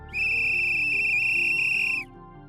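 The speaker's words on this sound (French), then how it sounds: "le sifflet retentit" Train whistle blowing once in a single sustained, steady, clear tone that holds for about two seconds before cutting off, over a soft musical background.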